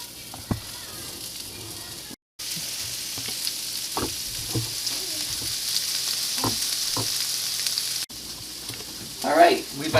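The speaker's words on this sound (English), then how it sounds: "we've been sauteing the onions for about 3 minutes" Sliced sweet onions sizzle steadily in a heated frying pan, a continuous hiss broken by occasional stirring scrapes and a brief gap.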